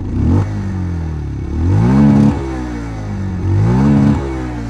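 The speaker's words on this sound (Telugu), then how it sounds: "ఫస్ట్ ఎగ్జాస్ట్ సౌండ్ వినండి" A 2025 Bajaj Pulsar 125 Neon motorcycle idles close by, its exhaust giving a steady low putter broken by three throttle blips that rise in pitch and drop back.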